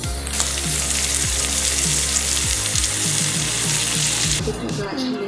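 Amaranth leaves drop into a pan of sizzling, half-cooked curry, setting off a loud, close, steady frying hiss with soft stirring knocks underneath.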